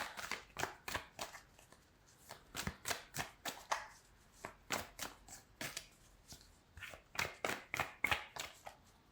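Tarot cards are shuffled by hand in a quick run of crisp riffling bursts with short pauses between them, close and clear, with no talking.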